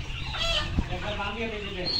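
Layer chickens cluck in a busy flock at a poultry farm, several birds overlapping continuously at close range with no pause.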